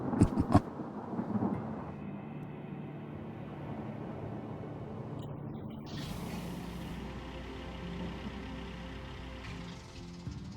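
Thunder from a storm with lightning in the Gold Rush game, a sharp crack at the start followed by a long low rolling rumble, loud and sustained with a brief hiss midway.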